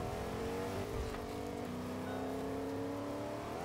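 Car engine in the Fortnite video game, a steady droning hum with revving as the vehicle drives, loud and continuous with no talk over it.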